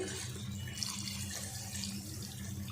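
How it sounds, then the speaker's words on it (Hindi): Water poured into a pot of mutton cooking with cardamom, a continuous splashing, gurgling stream that runs steadily for a few seconds at close range, with no talking. "पानी डाल देते हैं।"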